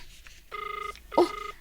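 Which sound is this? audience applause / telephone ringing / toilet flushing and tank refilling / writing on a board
telephone ringing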